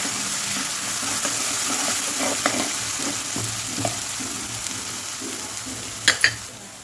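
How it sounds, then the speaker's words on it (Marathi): Spice paste (vatan) for besan vadi sizzles and fries steadily in a pan, with soft stirring scrapes and a couple of sharper clinks near the end, close and moderately loud with no talking. "वाटण छान असं फ्राय करून घ्यायचं"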